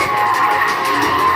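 A Subaru drift car slides sideways through a corner at a Latvian drift series event, tyres screeching in one loud sustained skid with engine roar beneath.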